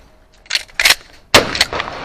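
Gunshots at a cowboy action shooting match: four or five sharp reports in quick irregular succession, close and loud, with brief gaps between.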